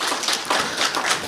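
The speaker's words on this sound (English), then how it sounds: "would you please give my CEO a big round of applause" Audience applause for a company CEO walking up to give opening remarks at a bank seminar on small business growth, a dense, steady patter of many hands clapping close by, with no talking.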